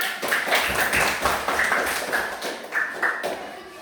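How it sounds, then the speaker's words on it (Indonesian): Schoolchildren in a classroom clap their hands together as a group, a steady patter of many small claps at moderate loudness with a faint murmur of voices underneath. "Jadi, silakan tepuk tangan semua."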